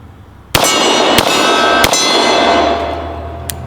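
Four sharp 10mm pistol shots at an outdoor shooting range, loud and close, spaced unevenly with ringing echo and a metallic clang trailing after each report.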